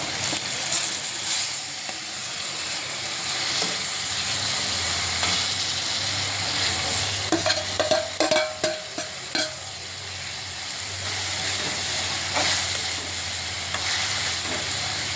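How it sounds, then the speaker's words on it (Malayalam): Tomatoes and onions sauté in a pan with a steady sizzle, while a spoon scrapes and stirs them in a cluster of quick strokes midway, up close with no talking. "തക്കാളി അതും കുടഞ്ഞിട്ട് നല്ലവണ്ണം വഴറ്റുക"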